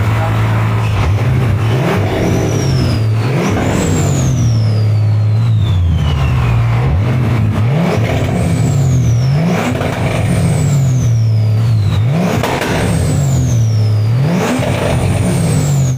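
A turbocharged car engine, newly fitted with a gearbox and turbo still being broken in, revs repeatedly in loud close bursts, each rise followed by a descending turbo whistle and drop back to a rumbling idle.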